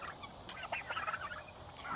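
Turkeys gobble in a rapid warbling burst, close and clear over a rough outdoor background, with no one talking.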